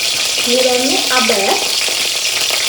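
Mustard seeds fry in hot oil with a steady crackling sizzle, and a brief voice sounds partway through.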